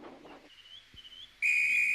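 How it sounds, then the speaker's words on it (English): A railway guard's whistle on a branch line station gives one loud, sustained shrill blast that starts abruptly near the end, after a brief faint tone and quiet background. "Oh, that's my guard's whistle."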